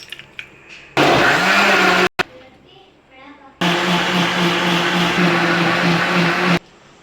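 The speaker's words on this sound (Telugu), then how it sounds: "ఇప్పుడు దీన్ని మనం మిక్సీ పట్టుకుందాం." A kitchen mixer grinder blends mango milkshake with cold milk and ice cubes, running loud and steady in two bursts, about a second long and then about three seconds, with a short quiet pause between them.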